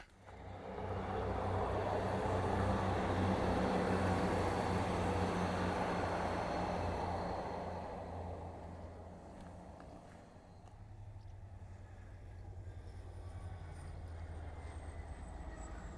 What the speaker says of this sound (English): So a bit of train action there as we pass Bleemore signal box